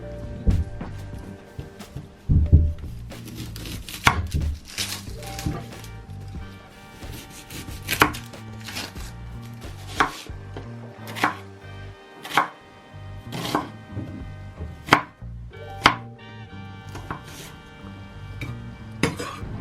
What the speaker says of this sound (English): So let's start out with cutting the onion.